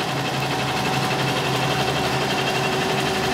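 A computerised embroidery machine stitches a border onto a plain cotton saree, producing a steady, dense mechanical hum and rapid needle chatter at constant level, with no talking.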